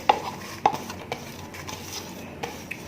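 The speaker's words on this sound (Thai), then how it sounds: "ตำผักให้มันเข้ากันเลยนะคะ" Vegetables such as spring onion and coriander pounded and stirred into Isan jackfruit soup with catfish: soft, close thuds and scraping knocks at an uneven pace over a low kitchen background.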